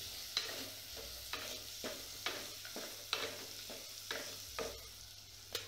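Chopped vegetables and green chilli roasting in a pan, a soft sizzle broken by regular scraping stirs, close and fairly quiet, with no talking.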